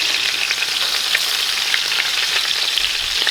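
Garlic hits a hot pan alongside steaks already searing for butter basting, producing a loud, steady, close sizzle with faint crackles throughout and no voices.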